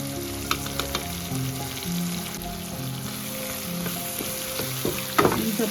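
Spices including turmeric and salt fry for a palak (spinach) dish, a continuous close sizzle with occasional stirring clinks and a louder scrape near the end.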